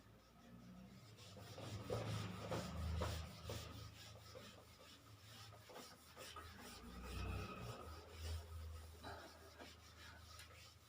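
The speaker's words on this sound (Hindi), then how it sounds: "बड़े डायग्राम को मैं रब कर देता हूं" Eraser rubbing a large diagram off a classroom board during a coordinate geometry maths lesson, repeated scratchy back-and-forth rasping strokes in irregular bursts, faint and close, with no talking.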